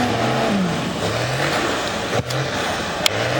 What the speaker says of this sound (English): I just got told that both stock trucks are running.